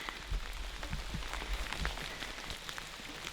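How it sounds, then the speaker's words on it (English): Steady rain falling around a camera setup on an ocean shoreline, a dense even hiss with scattered sharper drops close by, no voices. "Rain's getting to be a little much"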